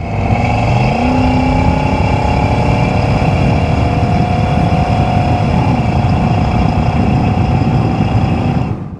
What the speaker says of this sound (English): Good combination of motor and exhaust noises.